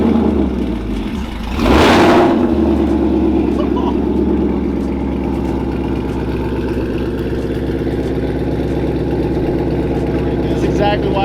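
A 700 whp procharged Mustang engine revs sharply with a loud exhaust burst, then settles into a deep, rumbling idle that continues steadily.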